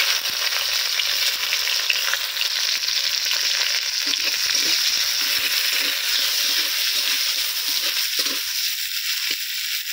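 Chopped onions frying in oil with bay leaves for chicken curry, a loud, dense, steady sizzle with occasional soft stirring scrapes, close up and uninterrupted, no voices.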